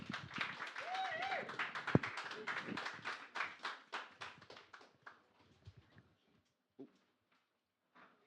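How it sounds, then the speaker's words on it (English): A small audience at a spoken-word event breaks into a round of applause, individual claps clearly separable, that thins out and tapers to a few last scattered claps, with a voice briefly heard near the start. "everybody, give a massive round of applause"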